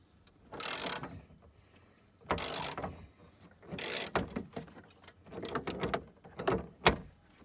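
Nuts on the door of a Tesla Model 3 being loosened, producing several separate bursts of close mechanical ratcheting and rattling spaced about a second apart, with no talking.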